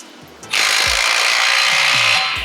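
A power tool tightens a clamp on an AWE exhaust being fitted to a BMW G8X M3/M4. After a short quiet start it kicks in with a loud, close, continuous whirring buzz that lasts about two seconds before easing slightly.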